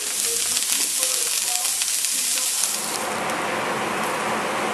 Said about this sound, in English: the onions are starting to wilt down a little bit and get a little translucent